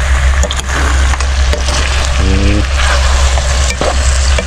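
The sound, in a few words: chicken sautéing in oil with shrimp paste (bagoong), sizzling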